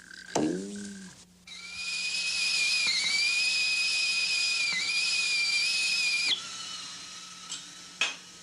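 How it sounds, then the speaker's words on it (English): A whistling tea kettle lets out a shrill, steady two-tone whistle that wavers slightly and holds for several seconds before cutting off, preceded by a brief chirp and a hollow tone, close and clear with no speech. "Have you ever wondered why a whistling tea kettle whistles?"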